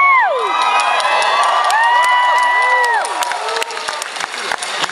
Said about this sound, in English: You just gave yourself like the biggest round of applause of the night